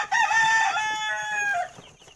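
A rooster crows a long harmonic cock-a-doodle-doo close by, with chickens clucking faintly around it in a backyard coop, the crow loud and alone for about a second and a half.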